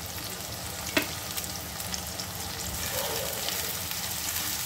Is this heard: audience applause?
no